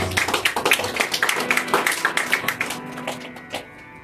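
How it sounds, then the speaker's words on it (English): An audience at an evening puja gathering gives a big round of applause, dense, steady clapping near and loud for about three seconds before it thins out and fades. "Before I commence, I want you to give them a big round of applause."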